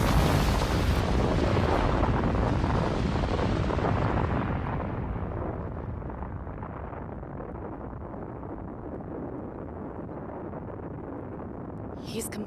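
A massive explosion destroying a castle in an animated show: a huge, roaring blast that sustains loudly for several seconds, then rumbles and slowly fades away.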